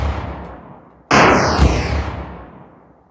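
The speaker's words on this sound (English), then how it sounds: "I think explosion volume is a little bit too high" Explosion effect from a game in development: one loud, sudden broadband blast with a rumbling tail that fades over a couple of seconds, heard alone and set rather high in volume.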